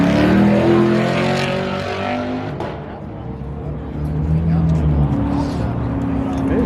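A turbocharged car engine revs at an outdoor car show, a loud throaty roar that swells, dips and builds again close by, with people talking over it.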